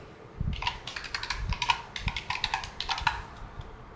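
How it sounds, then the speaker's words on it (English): Password typed on a computer keyboard, a short burst of close, irregular key clicks with a few heavier taps, alone in a quiet room. "Okay, just going to type the password quickly."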